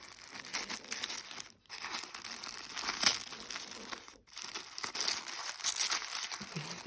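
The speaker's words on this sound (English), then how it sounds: "Trying to do it without ripping all the tissue" Tissue paper crinkles and rustles as a gift is carefully unwrapped, in close, continuous bursts of crumpling and soft tearing with two brief pauses.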